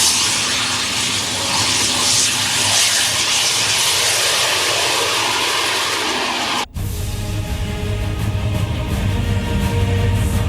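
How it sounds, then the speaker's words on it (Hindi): A Mi-17 helicopter carrying passengers to a remote border post roars loudly and continuously, its engine and rotor noise shifting abruptly to a harsher, throbbing tone partway through, with no talking. "इस पोस्ट पर जाने का जरिया सिर्फ ये मी-17 हेलीकॉप्टर है"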